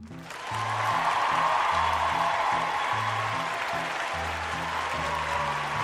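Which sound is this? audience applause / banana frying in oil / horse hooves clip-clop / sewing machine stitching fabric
audience applause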